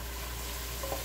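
Onions frying in a pan for jambalaya, a close, continuous hiss of sizzling oil with a faint low hum underneath, very short and with no talking.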